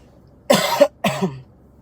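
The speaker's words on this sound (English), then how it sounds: "Tired of coughing." Two harsh, close coughs in quick succession, each a rough burst of breath from the throat, with quiet between them.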